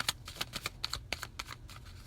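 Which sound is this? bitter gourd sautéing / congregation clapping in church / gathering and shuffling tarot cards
gathering and shuffling tarot cards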